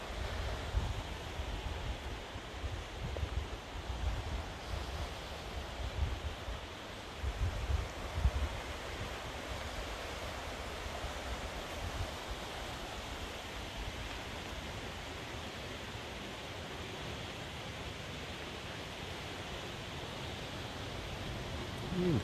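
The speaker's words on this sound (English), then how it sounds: "This is just a little creek." A small creek flows through the woods near the Skykomish River, giving a steady, broad rushing wash of water that stays even throughout with no speech over it.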